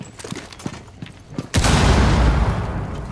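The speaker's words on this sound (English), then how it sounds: "Getting a frag ready" A frag grenade goes off in Rainbow Six Siege, a sudden loud blast that leaves a sustained roar of debris and rumble after a stretch of quieter game noise and faint voices.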